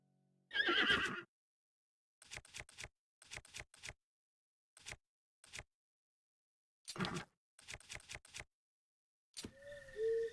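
A horse in a video game gives a loud whinny at the start, followed by scattered short clip-clop hoof taps and clicks, with a brief tonal game sound at the end.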